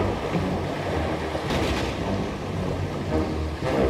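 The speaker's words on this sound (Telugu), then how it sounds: "అలలు యువరాజ పడవను పడగొట్టడం ప్రారంభించాయి" Stormy sea waves crash and surge against a boat in a cartoon scene, a steady, loud roar of surf and wind with a brief heavier swell partway through, no voices.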